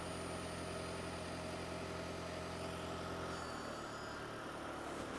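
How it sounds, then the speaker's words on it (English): A Toyota Prius engine idles with a steady low rumble and hum, continuous and even throughout, with no talking. "So the engine is running"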